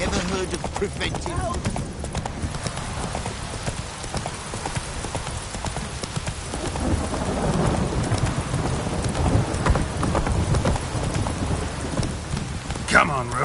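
Geralt's horse Roach gallops in The Witcher 3, a rapid continuous clatter of hooves close by under steady rain and distant thunder, with brief voices over it.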